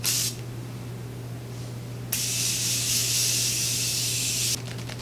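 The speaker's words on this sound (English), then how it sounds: "I'm gonna be using the Morphe setting continuous setting mist." A Morphe continuous setting mist bottle releases a brief mist hiss, then a longer continuous spray of about two seconds, close up, with a soft hum underneath.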